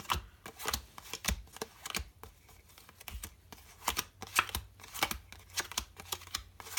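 A deck of playing cards is shuffled repeatedly during a card trick demonstration, giving quick riffling and tapping bursts in an irregular rhythm. The sound is quiet and close, with no talking.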